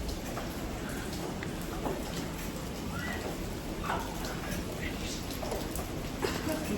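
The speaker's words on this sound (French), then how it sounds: "Il pleut." Steady rain patters and hisses outside a large cave, a dense even wash of drops filling the whole stretch, with faint scattered sounds over it.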